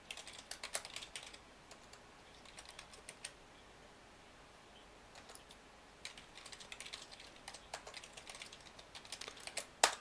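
Someone types on a computer keyboard in quiet, irregular bursts of rapid key clicks separated by short pauses, close and fairly soft, with no talking.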